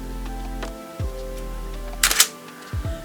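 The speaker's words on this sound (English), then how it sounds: "That shutter sound is epic, absolutely epic." A film camera shutter fires once with a sharp, close mechanical click and a brief rattle, surrounded by quieter handling knocks and faint low room hum.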